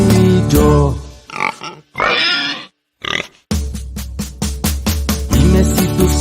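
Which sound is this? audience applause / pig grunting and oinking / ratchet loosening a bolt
pig grunting and oinking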